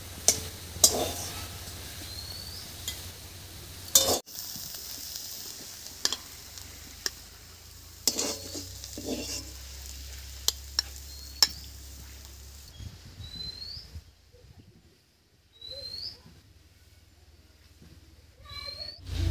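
Freshly picked leafy greens frying and being stirred in a pan until their water dries off: a soft sizzle under scattered spatula clicks and scrapes, with birds chirping faintly nearby and a quieter stretch near the end.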